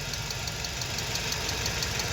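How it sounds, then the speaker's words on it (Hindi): A Toyota Corolla engine with a check engine light idles roughly and vibrates, a steady close rumble with faint rhythmic knocking and no talking. "इंजन वाइब्रेट कर रहा है"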